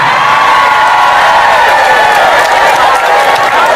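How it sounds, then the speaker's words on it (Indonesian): A large crowd at an outdoor Islamic sermon gathering in Papua applauds and cheers loudly, a dense continuous roar of clapping and whoops throughout. "Kau tepuk tangan"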